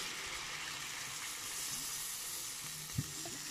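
Sprite is poured over small crabs (talangka) cooking in a pan, giving a steady bubbling sizzle with a single soft knock of cookware near the end.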